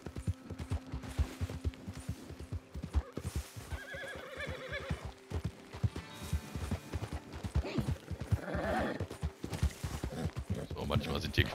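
Horse hooves clip-clopping steadily while riding in Red Dead Redemption 2 Online, close and rhythmic throughout, with a horse whinnying and someone talking over the gallop.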